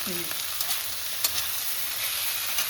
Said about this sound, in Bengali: ঢাকনাটা তুলে দিয়ে একটু ভেজে নিচ্ছি, একটু ভাজা ভাজা করে নিচ্ছি।